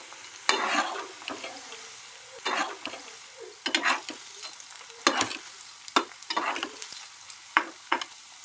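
Poha pakoda fritters fry in hot oil over a medium flame, a soft continuous sizzle punctuated by repeated sharp scraping stirs and flips of a utensil against the pan.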